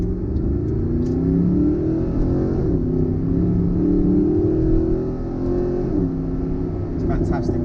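A Mercedes-Benz SLS pulls out of a junction in manual mode, its engine note rising steadily as it accelerates, loud and close throughout with someone talking over it.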